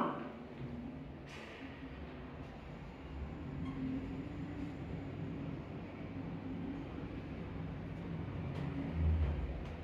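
Lift travelling upward in a shopping centre, a steady low rumbling drone from inside the car with a faint mechanical hum and a slight swell near the end.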